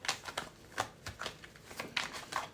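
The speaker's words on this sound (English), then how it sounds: "Let's give these a good shuffle." A deck of tarot cards is shuffled close to the microphone during a reading, with quick, irregular riffling bursts and soft slaps repeating throughout, fairly quiet and with no talking.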